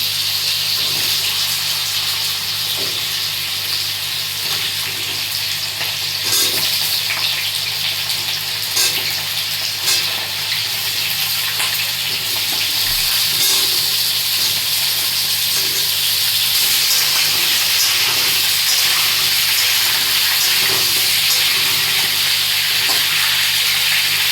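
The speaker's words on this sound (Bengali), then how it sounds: "এরপর এর মধ্যে দিয়ে দেবো আলুগুলো মানে ডুমো ডুমো করে কেটে রাখা আলুগুলো দিয়ে একটু লাল লাল করে হালকা লাল করে ভেজে নিয়ে নেবো" Diced potatoes sizzling in hot oil for a Bengali bori and potato curry, a steady loud frying hiss throughout with faint stirring scrapes and no talk.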